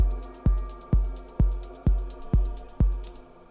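Electronic loop built in Bitwig: a punchy kick drum thumping steadily about twice a second under quick sixteenth-note hi-hats and a sustained drone, loud and without any voice.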